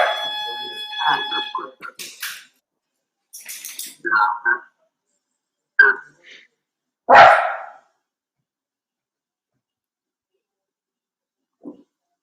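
Voices talk briefly, then a child lets out a loud, sharp bark in imitation of a dog, followed by quiet.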